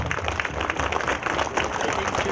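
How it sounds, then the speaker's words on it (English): Children in the audience at a school talent show clap together, a quick ragged patter of many hands, fairly close and steady across the short stretch. "Start clapping."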